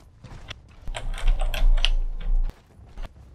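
Rapid keyboard typing on a computer keyboard during an Overwatch ranked match, a burst of close, clattering keystrokes that thickens in the middle, then thins to a few scattered taps.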